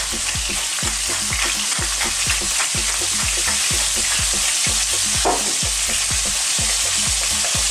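Scallops fry in a hot pan with a loud, constant sizzle, while a utensil stirs and taps against the pan in a regular rhythm.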